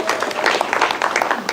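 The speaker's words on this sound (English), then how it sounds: "You can see even you are clapping more." A room full of people clapping steadily at a national exam results announcement, dense overlapping hand claps of fairly even loudness throughout with little talk.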